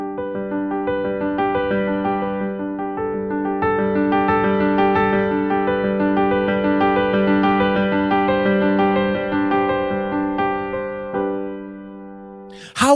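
An easy chord pattern played on a keyboard in G position, sustained notes ringing steadily and overlapping for several seconds before fading, ending with a brief clatter.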